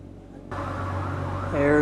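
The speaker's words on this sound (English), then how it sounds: "it sounds like a whole bunch of cops chasing somebody or going somewhere" Wailing police sirens rise and fall over steady traffic rumble near Fort Pierce Inlet, with a louder, higher siren tone swelling in near the end.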